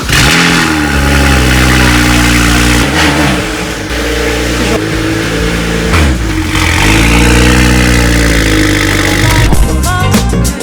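A BMW 135 race car engine fires up and revs repeatedly in a garage, loud and close, with the pitch rising and falling through several throttle blips before settling toward idle.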